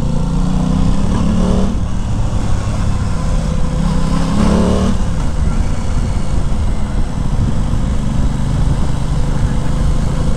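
A 2021 Aprilia Tuono 660 motorcycle engine drones steadily and loudly while riding, with low rumbling tones and brief shifts in pitch, wind noise rushing throughout.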